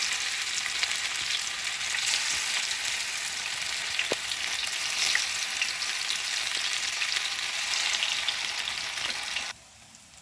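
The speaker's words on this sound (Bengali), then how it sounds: "এরপর একে একে ফ্রাই করার জন্য বড়াগুলো দিয়ে দেবেন। দুগন্ধ তেলে হবে না কিন্তু, সামান্য পরিমাণ তেলে দেবেন।" Bhetki fish and sago fritters fry in a small amount of oil, giving a dense, continuous close sizzle with a few faint clicks, dropping suddenly in level at the very end.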